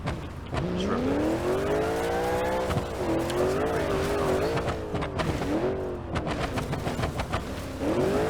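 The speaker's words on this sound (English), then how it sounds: "Just rev it." A go-kart engine in BeamNG.drive revs repeatedly, its buzzing whine climbing and falling in pitch across several pulls, loud and close, with brief tire noise.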